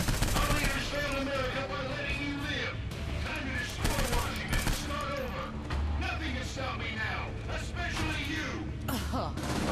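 Gunfire and bombing in the video game Saints Row IV, a dense fusillade of rapid shots and thuds layered with game music and voices speaking throughout.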